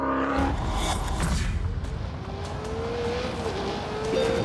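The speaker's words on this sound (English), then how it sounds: "time now to show you what a lap looks like, and to do that, we've got a bit of a performance benchmark, a Ferrari 488" A Ferrari 488 lapping a race track, its engine note climbing steadily as it accelerates close by, loud and continuous, with faint tire noise and no talk.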